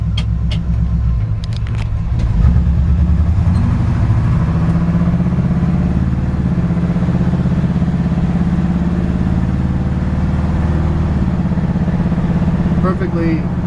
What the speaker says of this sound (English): Perfectly running engine, transmission shifts flawlessly